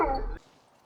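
A dog belonging to other hikers on a hike up Pogo Mountain gives a short yip and whimper up close, then the sound drops away abruptly to quiet.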